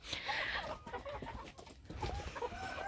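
Faverolles hens cluck and murmur nearby in a loose, continuous chorus of short calls, moderately loud, with no one talking.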